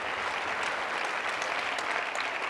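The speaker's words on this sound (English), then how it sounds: "Give yourselves a round of applause for being out here for our democracy." Town hall audience in Colorado Springs applauding a senator, a dense, steady wash of many hands clapping close by throughout, with no talk over it.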